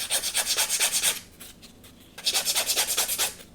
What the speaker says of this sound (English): I am going to put a chamfer along this length though.